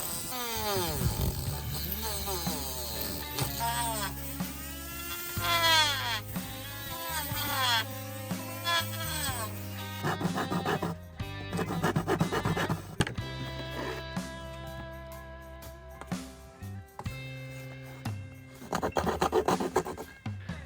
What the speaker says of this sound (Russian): Примерно час уже пилю.